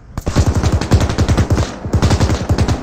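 Rapid, loud enemy machine-gun fire in Arma 3, a steady rhythmic stream of close shots lasting nearly three seconds with a short break partway through.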